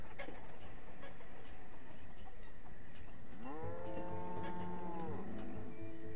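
Cattle on a farm in the game Banished let out a clear, drawn-out moo in the latter half, rising and holding steady, against a soft ambient background with faint ticking sounds.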